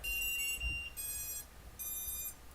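Force1RC XDR 220 FPV racing drone and its controller beep on power-up: three bursts of high, multi-tone electronic beeps, each lasting about half a second, separated by short gaps, close and clear over a low background rumble.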